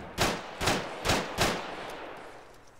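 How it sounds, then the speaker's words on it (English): Four sharp gunshot bursts ring out in Arma 3, evenly spaced about half a second apart, each with a short echoing tail, loud and fairly close. "Oh, a whole heap of men were shooting"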